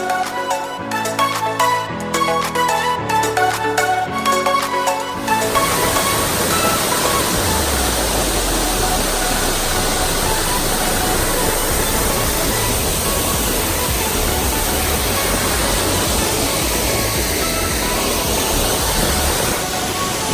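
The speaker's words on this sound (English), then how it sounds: "Waterfall. Creek right there." A waterfall and creek in the Buffalo River Valley give a steady, loud broadband rush of falling water. A few seconds of music come first, then the water continues alone.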